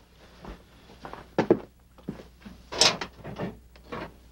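A metal file drawer in an office is pulled open, with sliding rattles and a few sharp thunks and knocks spread irregularly across a few seconds, close by and without speech.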